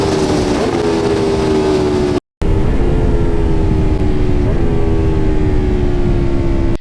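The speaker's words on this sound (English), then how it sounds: "you can actually hear the bike work. The low-end rumble, the mid-range growl." A motorcycle engine and exhaust rumble and growl continuously while riding, captured loud and close by a 360 camera, with rising and falling engine tones, a brief dropout partway, and no talk.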